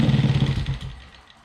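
A Peugeot 103 moped engine runs out of fuel and stalls: a close, rough two-stroke idle that sputters and fades away over about a second.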